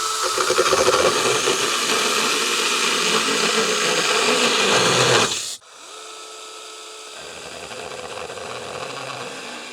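A cordless brushless 6-inch mini chainsaw buzzes loudly and steadily for several seconds while cutting, then cuts off abruptly, leaving a quieter, lower motor hum running alone.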